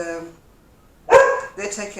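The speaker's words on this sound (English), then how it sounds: "People all over the world are hearing you barking." Small dog barking in a home, a loud burst of several barks near the mic, then another run of barks, with someone speaking over the start.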